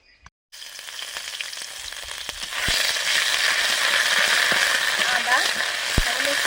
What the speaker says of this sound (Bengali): হলুদ দিলাম তেলটা ছিটকে যাক হলুদ দিলে ছিটকায় না